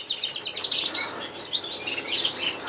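Gloster canaries chirp and tweet in rapid, close bursts, a busy high-pitched twittering that runs continuously with no talk.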